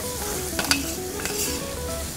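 Rice being stirred and toasted in oil in a paella pan for a lobster paella, a steady close sizzle with soft scraping stirs and a few light clinks of the utensil against the pan.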